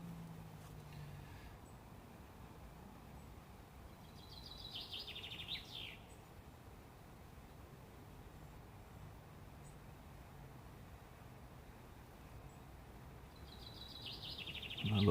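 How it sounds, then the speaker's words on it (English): Birds sing in bluebell woods at a quiet wild camp, with a few short chirping phrases scattered in the distance over a soft, low background hum. "Lovely just to hear the birds."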